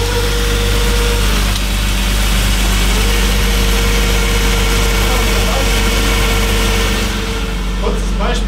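A BMW E36 engine idles with a steady hum while a worn pilot bearing squeals persistently over it, loud and close throughout, with faint faster chirps near the end.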